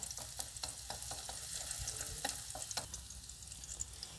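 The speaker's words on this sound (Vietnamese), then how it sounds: "Mình cho vào đây một tép tỏi. Mình phi cho thơm rồi mình sẽ đổ thịt vô để mà xào." A garlic clove frying in hot oil in a pan gives a steady, close crackling sizzle with light stirring scrapes, continuous and unbroken, no voices.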